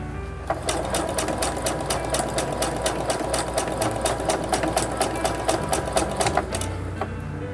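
Sewing machine stitching a ruffle with a gathering presser foot, gathering fabric as it sews: a steady, close run of rapid needle clatter for about six seconds with no talking, then it stops.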